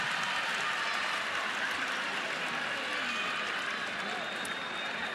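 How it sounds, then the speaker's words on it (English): A crowd in an arena applauding after a rally in a Florida versus Florida State college volleyball match, with sustained dense clapping and cheering at an even level throughout. "I appreciate the applause from the crowd"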